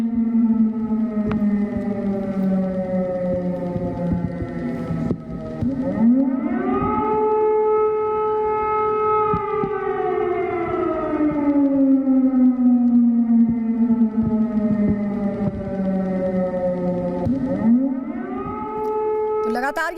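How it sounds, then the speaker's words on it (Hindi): An air-raid civil defense siren sounds in Kyiv during a Russian air attack alert, a loud, continuous wail that rises and falls in long slow sweeps across the whole stretch. "एक बार फिर से सुनिए किस तरह एरियल सायरन बजाया गया।"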